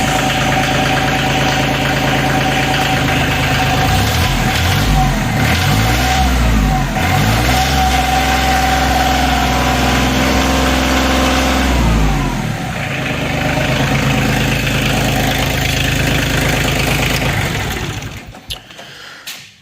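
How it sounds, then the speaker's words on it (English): A Kioti CK2610 compact tractor's diesel engine runs in a garage, revving up and down repeatedly with rising and falling pitch, then settling back toward idle before cutting off near the end. "revving it in the garage is not the best way to try it"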